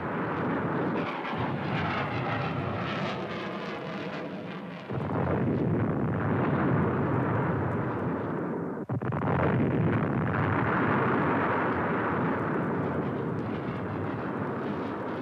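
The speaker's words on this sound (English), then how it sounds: "Tactical airstrikes soon average 400 a day." Tactical airstrikes at Khe Sanh: a continuous loud roar of aircraft engines blended with rumbling explosions, swelling and dipping in dense waves with no voices over it.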